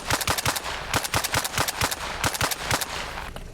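Suppressed AK-74N rifle fire in the Arma Reforger video game: rapid, evenly spaced muffled shots in quick bursts, close and fairly loud, with no talking.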